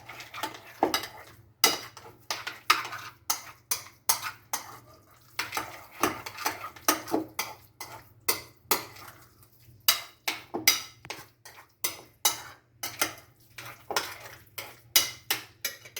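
A spoon mixes spinach pie filling with lemon and garlic in a bowl, giving steady rhythmic scraping and clinking strokes over a low constant hum, close and fairly loud.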